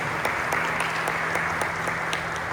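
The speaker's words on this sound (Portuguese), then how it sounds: "dá uma salva de palmas" A Sunday church congregation gives a round of applause during worship, steady, even clapping from many hands with a few sharper individual claps over a faint low hum.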